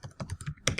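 Several quick keystrokes on a computer keyboard while entering a label in an Excel spreadsheet, close, soft and irregular taps.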